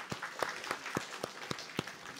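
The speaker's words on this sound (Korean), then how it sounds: "우리 박수로 환영하겠습니다." A church congregation at a Sunday morning service claps to welcome two students, heard as sparse, evenly spaced handclaps, fairly quiet, about seven distinct claps in a steady rhythm with no talking.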